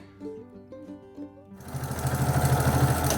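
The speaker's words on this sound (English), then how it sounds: "I back stitch on all of them because I don't want them coming apart" A sewing machine back stitching quilt pieces runs in a fast, steady mechanical chatter at close range, starting after a short stretch of quieter whirring and clicking.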